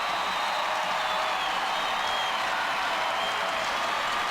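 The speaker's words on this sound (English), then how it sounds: "But the crowd cheering them in as they come here in the Sky Dome today." A large crowd in Toronto's SkyDome cheering the Blue Jays at their 1992 World Series parade, a broad steady roar of applause and voices filling the stadium, constant with no pauses.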